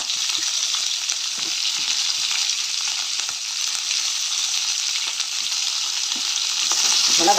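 Steady, loud sizzling of garlic and ginger frying in a hot pan, continuous crackle throughout with occasional stirring scrapes, no voices.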